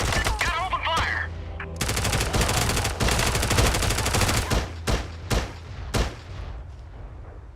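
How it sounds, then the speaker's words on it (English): Ship weapons open fire in the Space Engineers video game with loud, rapid machine-gun bursts. Sustained volleys are followed by several separate heavy shots, close and dense, and a voice talks briefly under the opening. "Gotta open fire."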